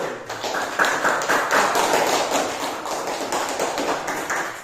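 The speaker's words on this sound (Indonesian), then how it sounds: "kasih tepuk tangan yang meriah buat kelompok 1" A small group of students in a classroom claps together in a dense burst of applause, steady and lively for several seconds, with no speech.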